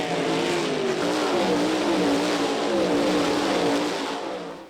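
World of Outlaws sprint cars roar through a heat race, a dense, continuous engine drone with rising and falling revs from a pack of cars, loud and steady before fading at the end.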